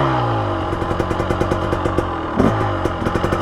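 A Husqvarna TX300 two-stroke dirt bike engine runs loudly up close after a kickstart, revving and dropping with a rapid crackling beat and short bursts of throttle.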